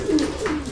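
Pigeons coo nearby in a loft during trapdoor training, with two low, soft, rolling coos close to the listener.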